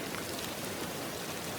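Steady rain falling, an even, dense hiss of drops with no breaks or distinct events, soft and continuous.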